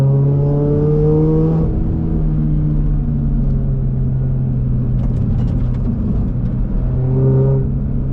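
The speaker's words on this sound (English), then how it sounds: "It is just a joy to accelerate in second to third gear, and anywhere from 0 to say 75 miles per hour." 2023 Toyota GR86 10th Anniversary Special Edition with its naturally aspirated engine pulls hard through the gears, a loud sustained engine drone climbing in pitch, dropping at a shift, then rising again, heard close without talking.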